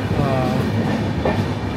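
The Tamralipta Express rolls along the rails with a steady rumbling roar and faint rhythmic wheel clatter, heard from inside the moving train with a brief higher squeal.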